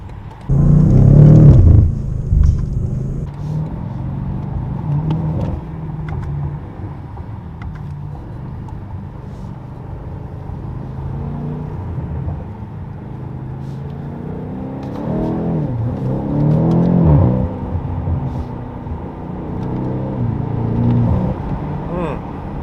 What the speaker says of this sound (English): so we're gonna put loud exhaust mode on. It is turbocharged, twin turbocharged V8.